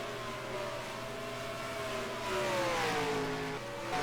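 A race car engine in a racing video game idles on pit road, then revs and pulls away with a rising, steady mid-pitched drone, moderately loud with no voices.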